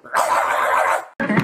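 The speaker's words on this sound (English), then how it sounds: "What does a dog say?" A dog gives a loud, close bark, sustained and raspy, followed after a brief pause by a second shorter yelp.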